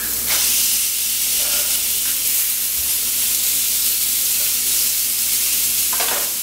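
Spice-rubbed steaks sear on a high-heat grill, a loud, continuous close hiss and sizzle with brief pops, no voices.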